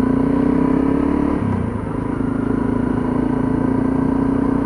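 Continuous, loud, close hum of a Honda Trailblazer motorcycle engine, idling steadily with a brief dip in pitch partway through and no other sounds over it.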